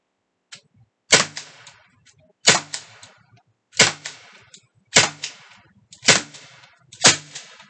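A Byrna HD XL 12-gram CO2 launcher fires six loud, sharp shots at a cardboard target from about fifteen feet, evenly spaced roughly a second apart with brief echoing tails between.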